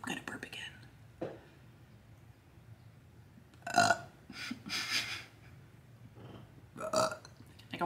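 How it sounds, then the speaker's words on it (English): Several short burps break up long near-silent stretches, some soft and some louder, with faint whispery breathing between them. "I'm gonna burp again."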